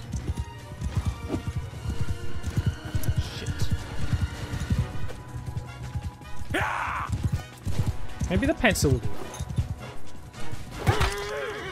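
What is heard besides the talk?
horse hooves galloping in video game Mount & Blade II: Bannerlord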